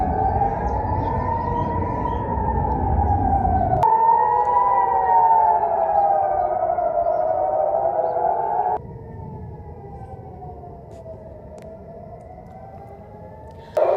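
Air raid warning sirens wail across Israel during an attack from Iran, loud rising and falling tones that continue throughout, with a sudden shift in level partway through and no voices.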